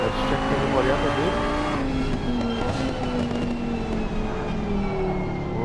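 Race car engines drone steadily in the ACC racing game at Paul Ricard, a continuous high whine with shifting pitch as cars run close together.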